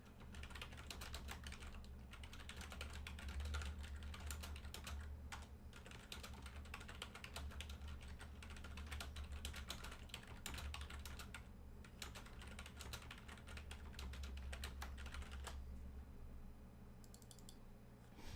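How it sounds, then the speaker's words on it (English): Steady typing on a computer keyboard fills the whole stretch with rapid, continuous key clicks at close range, set over a low background hum and with no talking. "I'm going to start typing this one out."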